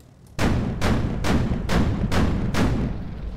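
A tank gun in the Sprocket game fires six heavy shots in rapid, evenly spaced succession, each a loud booming thump with a short rumbling tail.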